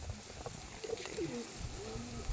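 A pigeon coos softly, a short run of low, throaty rolling notes over a faint background hum.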